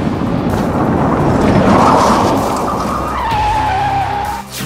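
A luxury car runs along a railway track at night, its engine roaring loud and close with tire noise, swelling and then settling into a rising whine as it moves off.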